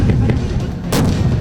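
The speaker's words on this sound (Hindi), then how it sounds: "जमीन पर गरजी तोप" Indian Army artillery cannon fires on a battlefield, heavy booming blasts with a loud sharp report near the end over a dense rumbling background.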